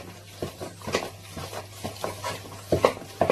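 Eggs are stirred one at a time into choux pastry batter for chocolate profiteroles, giving soft, irregular scraping and slapping strokes of a spoon in a bowl, close and moderately loud with no talk.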